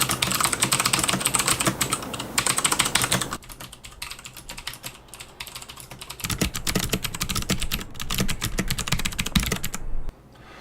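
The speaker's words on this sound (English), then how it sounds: "you can hear what Cherry MX Browns sound like when someone's going ham on them typing" Rapid, continuous clacking of a mechanical keyboard with Cherry MX Brown switches being typed on hard and fast, with a brief lighter stretch in the middle and no talking.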